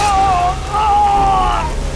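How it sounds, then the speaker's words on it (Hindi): Heavy rain falls in a steady dense hiss over the whole span, accompanied by a sustained tonal whine that sits on top of the downpour. "बहुत बारिश हो रही है बेटा"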